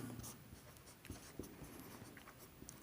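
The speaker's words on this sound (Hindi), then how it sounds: "यहाँ में मैं यहाँ पे आगे लिख रहा हूँ" Chalk or marker writes on a classroom board during a chemistry lesson on crystalline solids, faint short scratching strokes in a quiet room.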